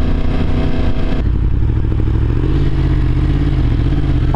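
Yamaha R1 with a CP4 crossplane engine and M4 mid pipe exhaust, loud and close, rumbling steadily with the tone shifting partway through and a deep, throbbing low end, no talking.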